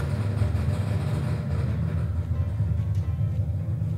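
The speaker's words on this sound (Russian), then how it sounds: "Мотоцикл... Драндулет какой-то заводит." An old motorcycle, a rattly jalopy, runs at a steady rough idle close by, with a low, uneven, pulsing engine drone throughout and no talk over it.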